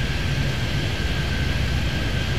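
Airplanes take off in the airport simulation game Airport Madness 3D at San Francisco, a steady loud roar of jet engines with broad rumbling noise holding constant throughout, with no voices over it.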